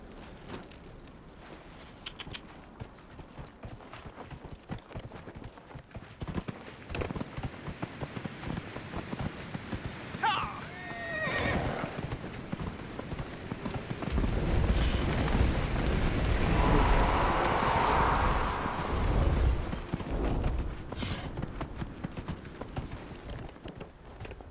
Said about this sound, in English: Run, horsey, run.